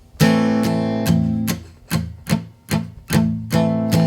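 A steel-string acoustic guitar is strummed with the picking hand resting near the sound hole, producing about nine short, palm-muted chord hits in a steady rhythm, close and clear with no voice.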